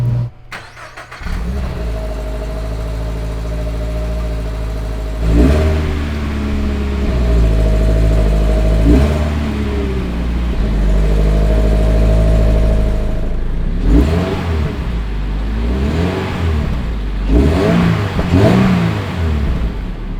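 A 2022 Subaru BRZ/GR86 fitted with a new axle-back exhaust idles, then is revved in several rising and falling pulls, the exhaust note loud and close with no talking.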